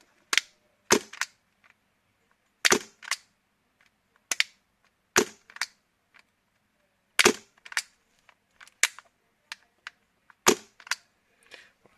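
Airsoft MK23 pistol fitted with a silencer, running on HPA, fires a series of sharp dull cracks, some paired with a quick mechanical clack, spaced irregularly and fairly close.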